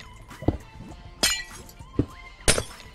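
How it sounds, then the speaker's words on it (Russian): A Minecraft end portal frame block breaks with glassy shattering crashes in the video game, four sharp hits spaced about a second apart, with bright clinking tails and no talking. "если совместить это со звуком ломания в виде стекла"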